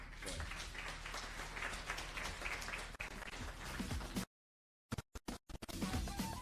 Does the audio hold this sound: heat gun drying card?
no